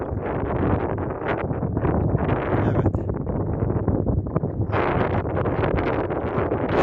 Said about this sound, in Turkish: Rüzgar vallahi efil efil esiyor